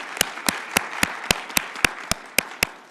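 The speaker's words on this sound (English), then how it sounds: "Can we give them a round of applause and appreciation?" A conference audience gives a short round of applause for the interpreters, heard as about ten sparse, evenly spaced claps, close and crisp.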